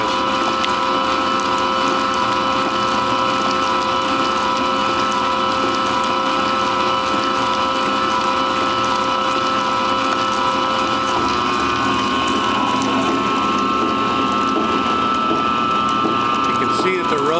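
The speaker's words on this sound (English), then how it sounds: "Turning about 80 RPM, and on this machine there's 15 cutters." A rubber processing machine with 15 cutters turns at about 80 RPM, giving a loud, continuous mechanical grinding and ratcheting drone, while someone talks over it.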